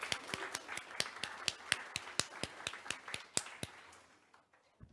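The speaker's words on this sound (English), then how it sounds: "Let's give them a round of applause." Conference audience at a plastics research and advocacy forum claps: a few separate, fairly close hand claps in a loose rhythm over faint crowd clapping, quietly fading out near the end.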